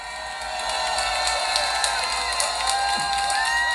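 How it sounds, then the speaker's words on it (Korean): A crowd at a political rally cheers and whoops with scattered clapping, a loud continuous roar of voices with high shouts rising above it. "500대 1의 전설 조슈아 김님을 박수로 모시겠습니다."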